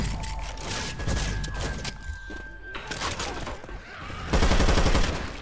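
Gunfire and mechanical clatter in the zombie co-op shooter Left 4 Dead 2, with several close sharp shots and a louder burst near the end against a busy game soundscape.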